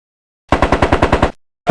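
A close, loud burst of about nine rapid gunshots in the Sam & Max Hit the Road adventure game, a fast even rattle lasting under a second, then a short gap before another shot starts, with no talk.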